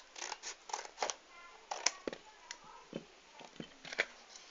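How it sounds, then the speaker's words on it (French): Scissors cut a wide strip from cardboard in a series of close, crisp snips and crunches, roughly a dozen irregular cuts with brief pauses, faint and with no speech. "vous allez prendre votre carton et vous allez découper en une assez large bande"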